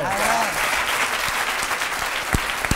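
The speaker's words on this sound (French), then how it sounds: "Alors on peut l'applaudir" A television studio audience applauds a guest, a brief, steady burst of dense clapping with a few sharp louder claps near the end.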